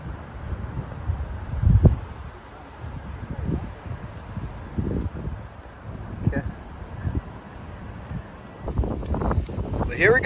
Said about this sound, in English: Man, it's windy up here in the mountains.